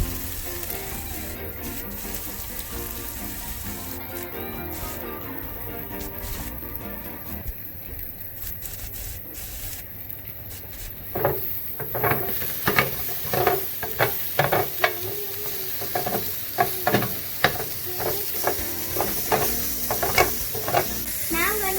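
Onions fry and sizzle in a pan with ribeye steak juices, a constant hiss followed by repeated sharp scraping as a utensil stirs them, close and clear.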